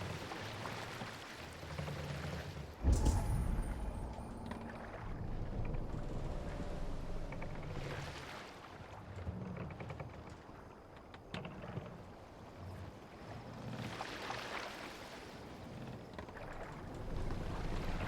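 Viking longship gliding across water in Assassin's Creed Valhalla, with steady wash of water and wind against the hull and a sharp thump near three seconds, continuous and fairly close, no talking.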